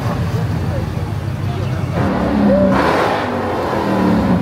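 Car engine revving as cars leave the SEMA 2024 show, a loud close rev climbing over a rumbling crowd scene, with people talking and shouting over it.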